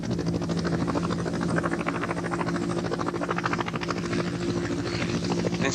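A helicopter flies steadily nearby, its rotor blades chopping in a fast, even rhythm over a constant engine drone, moderately loud and unbroken throughout.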